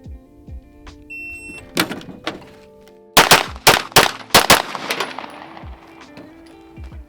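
Pistol drawn from a StopBox Pro lockbox and fired in a competition-style drill: a few clicks and handling clatter, then a burst of sharp, loud shots close together, with a faint shot or two earlier.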